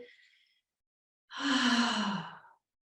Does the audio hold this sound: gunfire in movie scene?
no